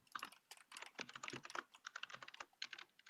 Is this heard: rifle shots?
no